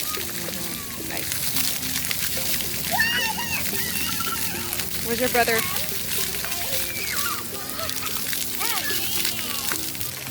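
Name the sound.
child splashing and stepping in water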